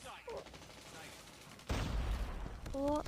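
Gunfire in the shooter game Call of Duty: muffled shots, then a loud burst of rapid fire that keeps going to the end, with game effects and a short voice earlier on.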